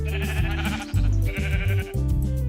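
Minecraft sheep bleat in loud, close, wavering calls, several in a row, over a sustained musical background with no talking.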